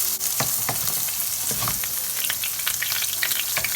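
A freshly flipped Japanese hamburger steak sizzles loudly in a pan, dense steady spitting hiss with sharp crackling pops, close up and without voices.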